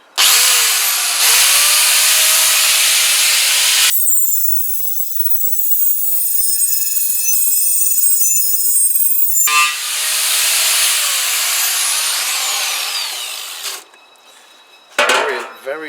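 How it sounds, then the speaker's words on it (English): An angle grinder with a twisted wire wheel attachment scours the fuel tank of a Kawasaki BN125 Eliminator, a loud, harsh, close-up grinding roar in long bursts with a pause between. "It's a twisted wire wheel attachment for the angle grinder."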